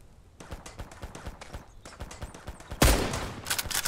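Rapid bursts of gunfire in the game Mist Survival, sharp repeated shots in quick succession, with a louder heavy blast near the end.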